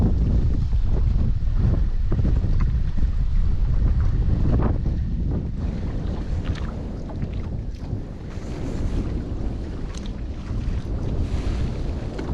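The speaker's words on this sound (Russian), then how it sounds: "Что-то этот ветер, наверное, надует" Wind blowing across the Pechora river during spinning fishing: a constant, heavy low roar of gusts buffeting the microphone, with faint water sounds underneath, steady throughout with no voices.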